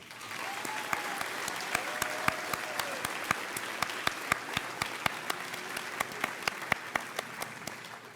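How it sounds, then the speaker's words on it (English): Crowd applause fills a graduation ceremony hall, a steady dense wash of many hands clapping for several seconds, with a few sharper individual claps standing out and faint voices beneath. "Please let's extend them another round of applause."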